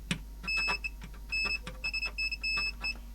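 A GVDA GD107 pen-type multimeter in continuity mode gives a series of short, high-pitched electronic beeps in uneven bursts as the probes touch and lift, with a few brief clicks and no talking.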